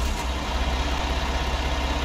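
A utility vehicle, a Gator, idles steadily in Farming Simulator 19. The engine produces a loud, continuous low rumble with an even rhythmic pulse, and no voices are heard over it.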